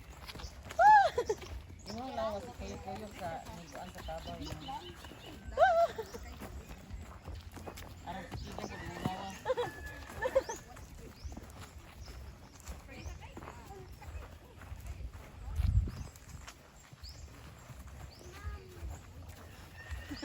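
Horse hooves clip-clop at a walking pace during horseback riding at a farm in Bohol, with people chatting and calling out over the irregular hoofbeats.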